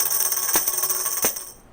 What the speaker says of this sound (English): tambourine,